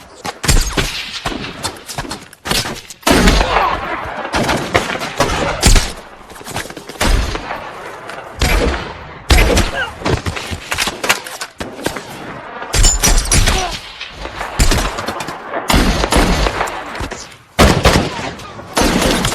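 Rapid bursts of gunfire crack repeatedly in a war film firefight, loud and chaotic, with heavy thuds and brief shouting voices mixed into the barrage.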